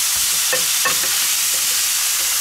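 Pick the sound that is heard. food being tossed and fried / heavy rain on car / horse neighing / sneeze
food being tossed and fried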